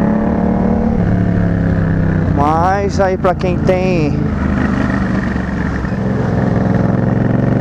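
Yamaha MT-07 motorcycle fitted with a full sport exhaust, its engine idling as a steady low drone throughout, with a brief rising rev in the middle while someone talks over it.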